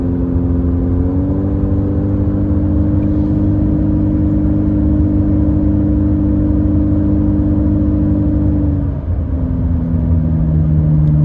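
A lifted car's engine revs hard as it climbs a mountain highway toward Big Bear in the snow, a loud, steady drone that holds for several seconds before the pitch shifts and settles near the end.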